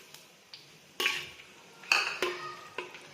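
About 100 g of ginger goes into oil heated to roughly 150°C while making Liuzhou luosifen soup base, producing a few sharp clatters and short sizzling bursts in a wok, faint and spaced apart, with no talking.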